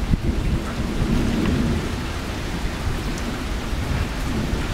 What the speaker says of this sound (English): out of nowhere. Came this storm.